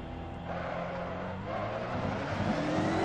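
Ferrari 458 GT2 race car engine in the Assetto Corsa racing game, a steady mid-pitched drone that climbs slightly in pitch as it revs in first gear, moderately quiet with no speech.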